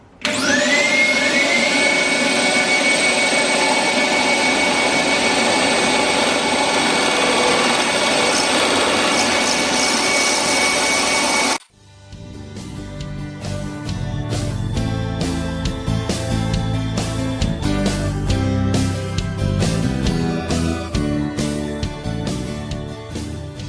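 An old fence post being roughed out on a wood lathe, with a loud steady motor whine and tool hiss for about twelve seconds, then a lower, choppier rumble of the spinning workpiece continuing to the end.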